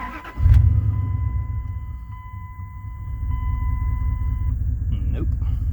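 A Ram pickup truck engine cranks and catches with a low thump, then settles into a steady rumbling idle, close by, with a brief electronic tone ringing over it and a voice briefly at the end.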